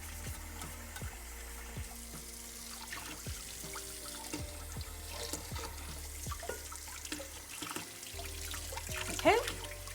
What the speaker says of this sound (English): I'm gonna quickly wash off my knife again